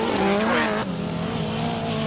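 A grasstrack racing motorcycle at a 2002 memorial meeting, engine revving hard as the throttle opens, a loud rising buzzy whine that climbs in pitch then settles to a steady high drone, close and continuous.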